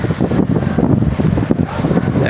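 Strong wind during a rain storm in Saudi Arabia, buffeting the microphone in loud, rough, continuous gusts, with a faint voice in the background.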